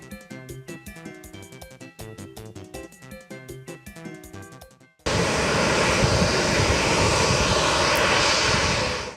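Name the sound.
airplane of the Colombian president landing at airport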